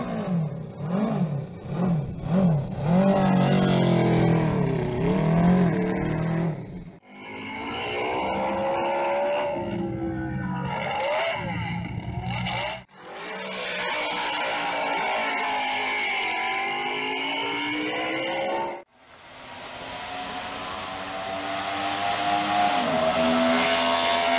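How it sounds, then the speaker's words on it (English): A Moto Guzzi V8 motorcycle engine revs hard in several separate runs, its loud, rising and falling roar climbing to a high, sustained scream, with brief pauses between passes. "getting the Moto Guzzi V8 he has out and talking endlessly about all the engineering excellence involved in building it"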